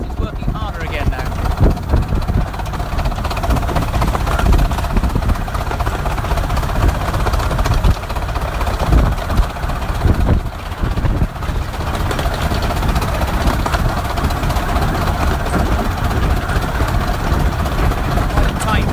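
A steam locomotive on the Romney, Hythe and Dymchurch Railway works hard, heard from the cab as a loud, continuous, dense exhaust roar with rough rumble from rough track, and someone talks over it throughout.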